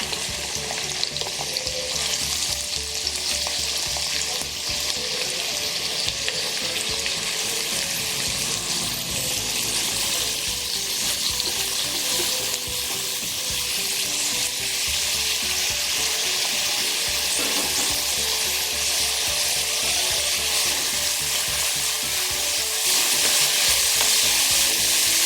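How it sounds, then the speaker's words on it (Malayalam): Three finely chopped onions sizzle and fry steadily in hot oil in a pan while being stirred, a loud continuous crackle close by with scraping and no talk. "ഇതിലേക്ക് 3 സവോള ചെറുതായി അരിഞ്ഞത് ചേർക്കാൻ പോകുന്നു."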